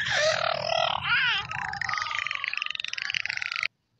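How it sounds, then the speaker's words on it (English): A beluga whale gives a dense run of high, warbling whistles and squeaky chirps that sweep up and down, heard close and continuous for several seconds before cutting off abruptly. "This is a beluga whale."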